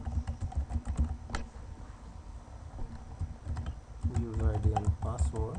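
Keys tapped on a computer keyboard while entering a user ID for a Google App Engine deployment, a quick uneven patter of clicks at close range with a low voice murmuring underneath.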